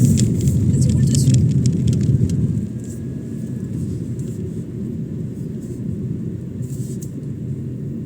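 A car rolls over cobblestones, a heavy, steady low rumble and vibration that is louder for the first few seconds and then eases to a constant drone, with muffled voices in the cabin.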